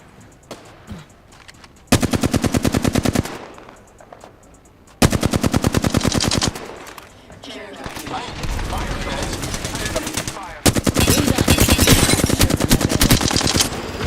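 Enemy gunfire in a video game: long bursts of rapid automatic fire, loud and steady, alternating with shorter pauses and a stretch of denser mixed shooting.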